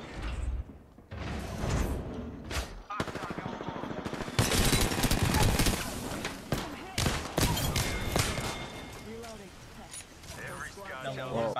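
Rapid automatic gunfire in the battle royale shooter Apex Legends, dense close bursts and rattling volleys filling the stretch, mixed with mechanical clanks and ability effects, while a voice talks throughout.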